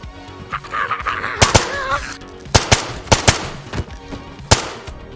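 AS Val suppressed rifle gunfire in the game DayZ: repeated sharp bursts of shots ringing out in quick clusters with brief gaps, loud and close, with some faint warbling sound and background noise between volleys.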